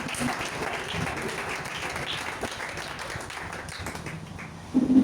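A church congregation applauds steadily, many hands clapping in a dense sustained patter at moderate volume, with a brief louder swell at the very end.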